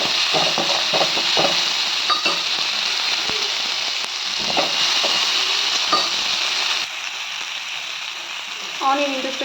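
Onions frying and being stirred in a pan for a green gram sprouts sundal: steady broadband sizzle throughout, with intermittent utensil scrapes and clinks; the sizzle quiets slightly near the end.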